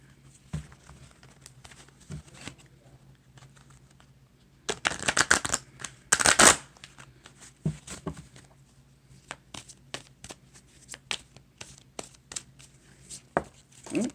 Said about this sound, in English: let's pull some tarot